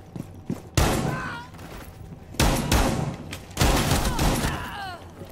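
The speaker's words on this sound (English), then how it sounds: "Somebody just shot at me." Bursts of gunfire in the tactical shooter game Rainbow Six Siege, three loud volleys separated by short pauses, with sharp reports and ringing tails, loud and close.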